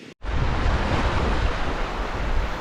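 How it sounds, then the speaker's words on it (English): Waves wash against the shore of a Scottish loch in a strong headwind, a continuous loud broadband rush of surf and wind buffeting the microphone, with no voices. "Just packed up, ready to go, and seeing these waves."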